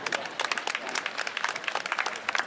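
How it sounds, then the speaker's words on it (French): Audience applause at a ceremony in Conakry, Guinea: a dense, steady burst of many hands clapping together, fairly loud and close, with no talk over it. "Madame Sanabakaba, que je vous demande d'applaudir."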